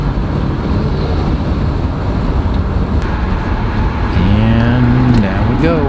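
A BMW E39 M5 engine warming up gives a steady, loud rumble that lifts into a higher, wavering rev near the end, with speech in the clip as well.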